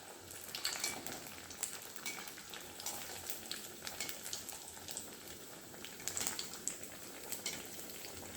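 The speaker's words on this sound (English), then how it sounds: "one by one I will put all this nest and fry it to a little dark brown color" Noodle nests fry in hot oil in a kadai with a steady, dense sizzle and crackle that carries on without a break, moderately quiet, with no voices.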